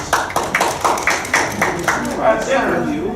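Audience at an interactive comedy magic show answers with a round of applause, a quick burst of clapping over a bright, roomy space with the performer's voice running over it.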